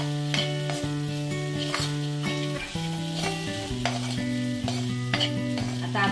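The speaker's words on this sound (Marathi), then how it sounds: "आता हे मसाले आपण चांगलेसे परतून घेऊया।" Malvani-style spices with turmeric and Kashmiri chili powder sizzle steadily in hot oil in a pan while being stirred, with the scrape of a spatula and occasional clinks throughout.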